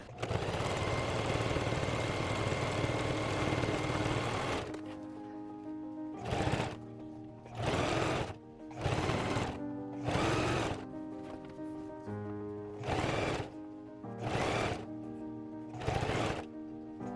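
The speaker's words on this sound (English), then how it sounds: "get a few bobbins filled because I know I will need them" A sewing machine winding bobbins for a jelly roll rug project, one long continuous whir followed by a series of short, evenly spaced bursts with brief pauses between them.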